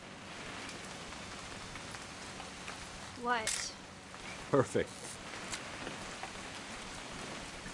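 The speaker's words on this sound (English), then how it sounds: "It's gonna rain the whole weekend, isn't it?" Steady rain from the video game What Remains of Edith Finch falls as a constant wash throughout, with a couple of brief louder splashes or movements partway through and short speech over it.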